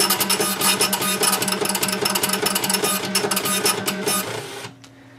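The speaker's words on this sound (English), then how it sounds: "on the printer, all of the values on this display will get printed out on the receipt" A Toshiba receipt printer runs off a receipt with a loud, fast, steady mechanical chatter of rapid repeating strokes, close by and alone, stopping abruptly near the end.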